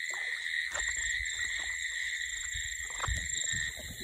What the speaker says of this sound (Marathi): बेडकांचा आवाज बघा